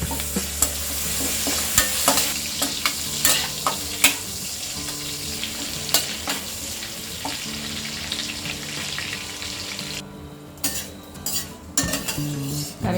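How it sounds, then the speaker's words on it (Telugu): Curry leaves crackle and sizzle in a pan of hot oil while a spoon scrapes and clinks against the metal in irregular bursts. The frying fades briefly near the end, and there is no speech. "కరివేపాకు కూడా క్రిస్పీగా ఫ్రై అయిపోయింది."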